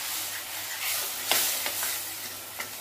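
A spoon stirs onion gravy with a splash of added water in a kadhai, soft scraping strokes over a gentle sizzle, close and fairly quiet, with no talking.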